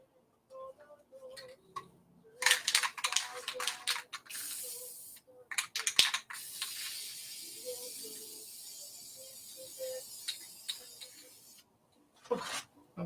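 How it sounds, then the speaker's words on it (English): Repeated bursts of a spray paint can hissing in short and longer blasts, fairly close, with quiet gaps and faint background sounds between them. "just start spraying"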